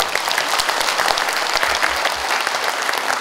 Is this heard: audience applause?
yes